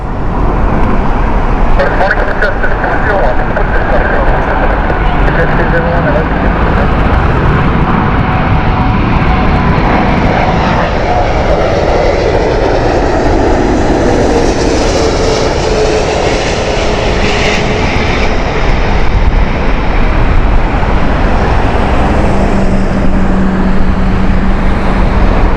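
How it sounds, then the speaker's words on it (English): Loud, continuous roar of a British Airways Airbus A380 on approach to land at Heathrow in heavy crosswinds, engine noise swelling and shifting over steady wind and background traffic, with a voice speaking intermittently. "A380 Super Jumbo."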